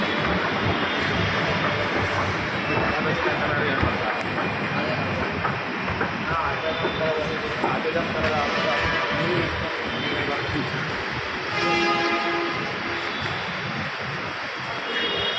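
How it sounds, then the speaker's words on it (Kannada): A metro train pulls into a station with a loud, steady rumble and roar that runs throughout, while people nearby keep talking. "ಅಂತೂ ಮೆಟ್ರೋ ಬಂದು ಗೈಸ್"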